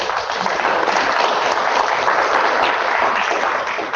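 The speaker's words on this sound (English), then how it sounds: "let's give a round of applause, rowdy hand of applause" An audience at a coastal issues forum applauds, a dense, steady wash of many hands clapping throughout, close and loud, with no voices over it.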